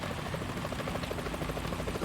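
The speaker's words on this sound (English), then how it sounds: "Is that a chopper I just heard?" A helicopter's rotor chopping in a fast, even pulse in Metal Gear Solid 2, fairly loud and steady, blended with a dense background drone.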